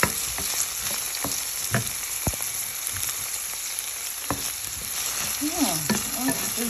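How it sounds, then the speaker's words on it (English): Sliced onion fries in a hot pan with a steady sizzle, broken by sharp scrapes and clicks of stirring, close up and alone without any talking. "It's sizzling, boiling hot here."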